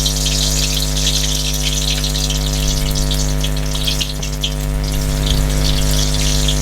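Spinach and onion pakora batter dropped into hot frying oil, a steady loud bubbling sizzle with a constant hum underneath throughout, no talking.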